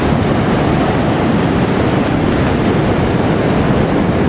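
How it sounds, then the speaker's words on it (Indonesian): Ocean waves roll in steadily at Parangtritis beach in Yogyakarta in the late afternoon, a continuous loud broadband wash of surf with wind noise and no talking. "di sore ini tuh ombak makin gede menjelang malam kayak gini"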